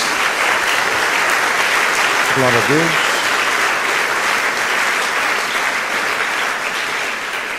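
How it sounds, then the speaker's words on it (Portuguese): A church congregation applauds with steady, dense clapping throughout, while a voice briefly calls out over the sustained noise. "Dê uma salva de palmas a Jesus."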